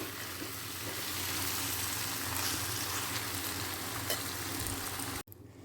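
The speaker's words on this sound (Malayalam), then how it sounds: "പോർക്കിറച്ചി ഇട്ടിട്ട് ഇതുപോലെ നമ്മൾ ഇളക്കി എടുത്തിട്ടുണ്ട് ഇനി കൈവിടാണ്ട് നന്നായി ഇളക്കണം" Pork stirred and frying in a pan gives a steady, close sizzle with scraping stir sounds, continuous and fairly quiet, ending abruptly near the close.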